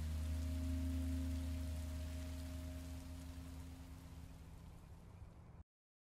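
Steady rain falls in the video game Minecraft Story Mode, a dense even hiss with a low hum beneath, holding constant and then fading before cutting off, with no voices.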